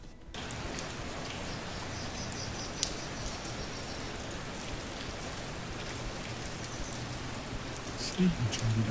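Steady rain falling in the online fantasy game Champions of Regnum, a dense, even hiss of drops on surfaces running throughout, with a faint chirp or two near the end.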